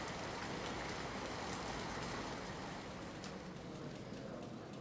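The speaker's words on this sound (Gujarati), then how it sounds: "સુરતમાં ધોધમાર મુશળધાર વરસાદ" Heavy monsoon rain pours down over flooded streets in Surat, a dense, steady roar of falling water that holds unbroken and even from start to finish with no voices.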